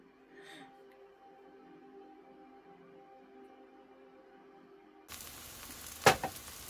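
Fried borscht sizzling in a pan, a sudden loud hiss of frying that starts after a quiet stretch of faint tonal hum, with a sharp crackling burst shortly after it begins.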